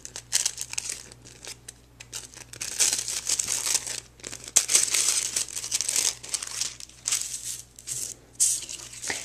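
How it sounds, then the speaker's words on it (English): Die-cut tissue paper pieces are unfolded by hand, giving close, irregular crinkling and rustling in bursts over a faint steady hum, with no talking. "I'm going to remove those from the die. And I'm going to go ahead and unfold them."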